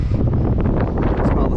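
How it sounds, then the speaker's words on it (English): Heavy wind on the Gold Coast during a fishing trip buffets the microphone with a constant, loud, low roar and gusty rumble lasting the whole moment. "because it's just so windy right now"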